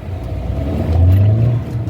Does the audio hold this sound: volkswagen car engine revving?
yes